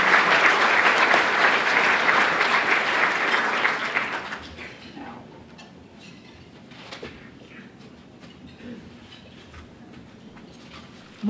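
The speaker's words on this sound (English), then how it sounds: "They all deserve a round of applause for their service" An audience at a United Way annual meeting claps loudly and densely for about four seconds, then the applause dies away into a quiet room with faint scattered sounds.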